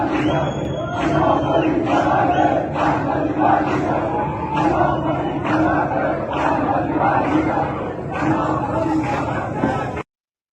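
A large street crowd at an Iranian protest shouts slogans in rhythmic unison, the massed voices pulsing in regular beats for about ten seconds before cutting off abruptly.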